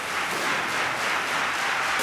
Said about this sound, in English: the crowd is definitely waking up here now that the crowd favorite is on tournament point